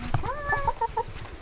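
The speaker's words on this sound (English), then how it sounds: "That's my good chicken." A rooster gives a short run of close, clear clucks in a quick rhythm. No one talks over the calls.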